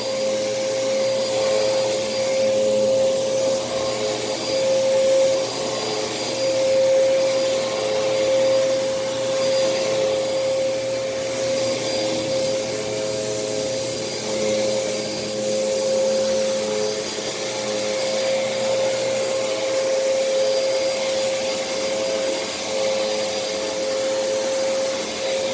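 A Moosoo U1400-A vacuum cleaner runs steadily while vacuuming a living room, a constant whining motor hum with a high tonal drone that holds for the whole stretch, near and alone.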